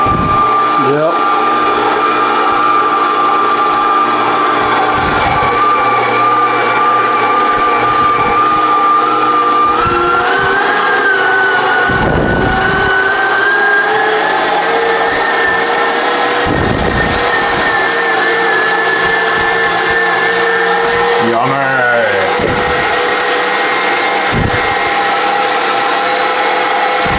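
Meat grinder working frozen meat and fat for snack sticks, a loud continuous motor whine whose pitch rises slightly partway through, with occasional knocks and a voice talking over it.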